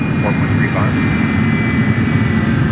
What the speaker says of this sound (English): This 777 is headed to Phoenix, Arizona.